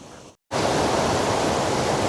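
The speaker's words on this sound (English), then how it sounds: "This is the first major waterfall we've come to." A major waterfall on the Isle of Skye at the Fairy Pools, a loud, steady rushing roar of falling water that fills the scene after a brief cut to silence.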